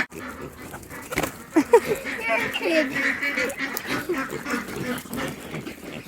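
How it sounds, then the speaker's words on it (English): Large farm ducks call in a few loud bursts near the start, with continuous background outdoor noise and voices talking throughout. "And our ducks. They got huge."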